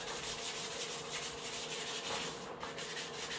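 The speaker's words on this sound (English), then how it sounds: "So I finished sanding the frame" Steady, continuous abrasive rubbing of sandpaper against the metal frame of a 1976 LTD car, close and fairly quiet, with no talking.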